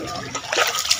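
Water flows and splashes steadily in a clear stream at Teresa, Rizal, a close, continuous trickling rush with brief bright splatters.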